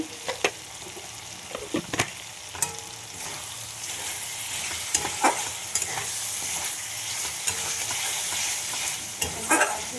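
Prawns frying with spices in a pan, with a steady close sizzle and intermittent sharp scrapes and taps of a spoon stirring against the pan throughout.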